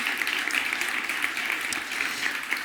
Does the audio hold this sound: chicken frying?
no